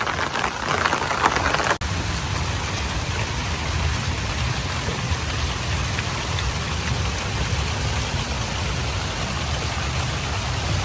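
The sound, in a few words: rain falling on a rainy day in a village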